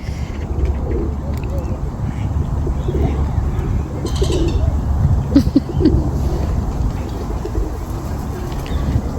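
Pigeons in a London park in the evening, soft cooing and bird calls close by, with background voices and faint distant traffic.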